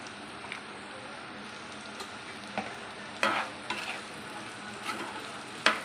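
Green mango pieces, chili powder and mixed vegetable curry stirred in a sizzling pan, a continuous close fry with irregular spatula scrapes and knocks against the metal, no voices.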